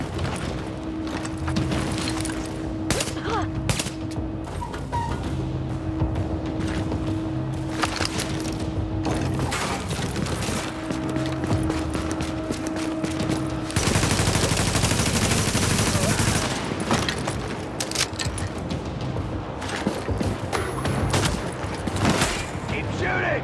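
Sustained gunfire in Tom Clancy's The Division: bursts of automatic shots and single cracks over about twenty seconds, with a loud dense barrage midway, mixed with game effects and voices calling out.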